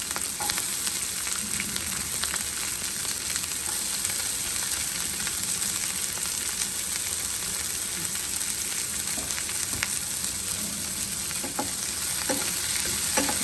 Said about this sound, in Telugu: ఎర్రగాగాల ఎర్రగాగాల వేగిపోయింది ఉల్లిపాయ పచ్చిమిరపకాయలు వేగిన తర్వాత టమాటాలు వేసుకోవాలి